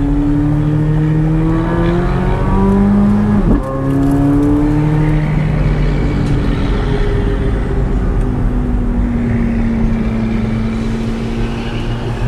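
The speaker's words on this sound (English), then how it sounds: "This is the loudest exhaust." A loud C8 Corvette Z06 exhaust roaring steadily in track mode as the car accelerates through gears on an on-ramp, close and continuous with a brief shift dip.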